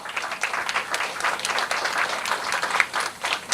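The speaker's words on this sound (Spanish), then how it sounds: "Aplauso, por favor" Audience applause at a university economics round table on China–Latin America relations: steady clapping from a seated crowd, sustained across the whole stretch at moderate volume with no speech over it.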